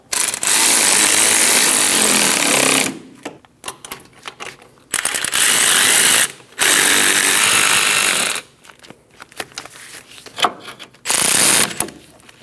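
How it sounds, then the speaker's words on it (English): A power tool driving wheel bearing bolts on a Scion xB, four loud ratcheting bursts of a few seconds each separated by quieter pauses with clicks and handling noise. "We're going to snug our bolts down in a cross pattern."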